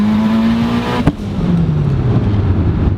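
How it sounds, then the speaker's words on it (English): A turbocharged Mitsubishi Evo accelerates hard with a steady rising drone, a sharp brief burst of boost near the middle, then the pitch sweeps down as it shifts and keeps pulling. "Just listen to the boost."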